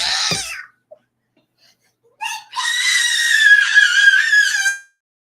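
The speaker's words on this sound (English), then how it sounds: "We're starting to let out these like these screams that are like 10 seconds long" A child lets out a loud, sustained, high-pitched scream of about two and a half seconds, close by and after a short pause that follows a brief earlier cry.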